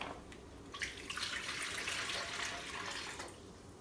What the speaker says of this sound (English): to that mixing bowl, we are going to add 3 cups of warm water.